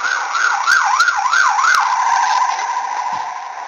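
A wailing emergency vehicle siren, its pitch rising and falling in quick regular sweeps before holding on a steady tone, loud and alone.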